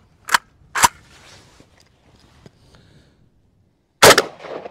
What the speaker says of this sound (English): Next shot out of a YouTube compliant 20 round magazine through my ZPAP M70 rifle.